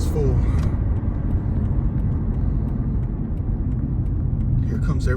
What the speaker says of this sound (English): Here comes every single car